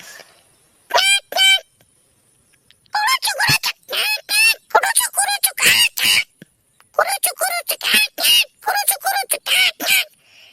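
A cartoon voice imitates a parrot with a run of short, harsh, squawking calls. They come in quick bursts separated by brief pauses and sound loud and close.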